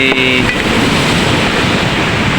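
Surf and wind at a beach, a dense steady roar of waves mixed with gusty microphone wind noise, loud and close, with a faint tonal sound at the very start and no talking.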